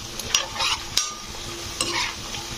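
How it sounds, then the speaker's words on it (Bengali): Spoon stirring cabbage pakoras in hot frying oil, a steady sizzle with a few sharp scraping clinks against the pan and brief louder stirring bursts, close up with no voices. "এটাকে একটু নাড়াচাড়া করে দিলাম।"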